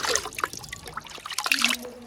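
Water trickling from a tap at a village house in the Konkan countryside, a thin, uneven splashing patter that carries on steadily from up close.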